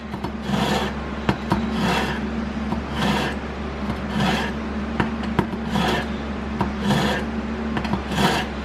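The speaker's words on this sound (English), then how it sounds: "I got my chef's knife here, all right, and I'm going to sharpen it real quick" A chef's knife drawn through a pull-through knife sharpener makes steady rasping, grinding strokes, about one per second, close and loud, each stroke ending in a small scrape, with no voices.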